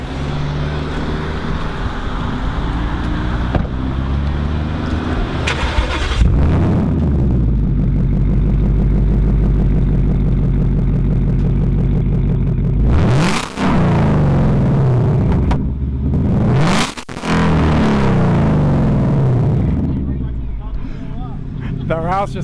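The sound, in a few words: 2018 Mustang Roush engine starting and revving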